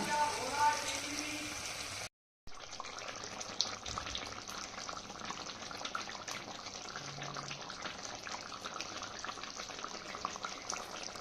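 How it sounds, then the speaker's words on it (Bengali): Water is poured into a pot of sizzling braised meat, giving steady hissing and bubbling that runs after a brief dropout, moderately close, with light kitchen clatter and no clear speech. "চলো তো মাংসটা কষে গেছে এবার জল দিয়ে দিই"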